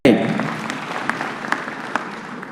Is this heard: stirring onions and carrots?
no